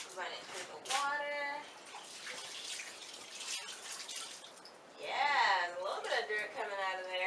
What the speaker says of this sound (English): Run it through the water.